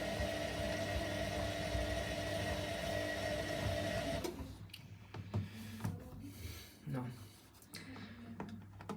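A Sharp ESHFA6102W3 washing machine hums steadily with a mechanical whir on a Mix 30 programme, then the noise drops away and scattered clicks and soft knocks follow.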